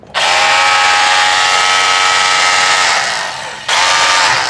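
A Makita drywall cutter that is blowing smoke runs loud and close with a high steady whine, sagging slightly before a brief cut-out and an immediate restart at full pitch.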